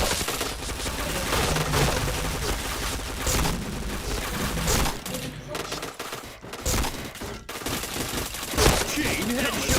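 Video game gunfire in sustained rapid automatic bursts with dense overlapping shots, loud and close, pausing briefly once before resuming.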